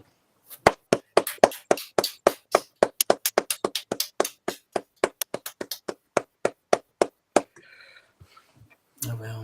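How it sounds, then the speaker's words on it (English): A short run of hand claps honours someone at the close of a casual talk show, the claps quick, crisp and separate at first and then thinning into scattered taps before a brief noise at the end. "10-second applause"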